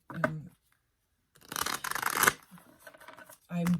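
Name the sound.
shuffling a tarot card deck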